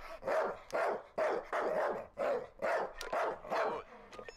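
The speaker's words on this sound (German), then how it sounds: "Ich kümmere mich aber von mir aus um den tollwütigen Hund." A rabid dog in the emergency-services game Emergency barks in a rapid series of about eight sharp, evenly spaced barks, loud and close, ending with a brief whimper.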